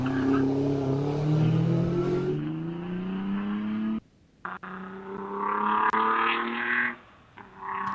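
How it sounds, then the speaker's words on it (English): A supercharged Morgan three-wheeler at a hillclimb roars off the start line, its engine revving hard through rising gear pulls, with a brief gap before the note returns and fades, near and loud. "listen to that supercharger and that car just leaving the line now"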